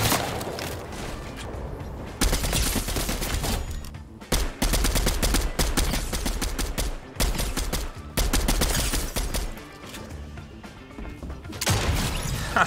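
Gunfire in a video game: loud, dense bursts of rapid shots and automatic fire come close together in volleys, separated by brief pauses, with no voice over them.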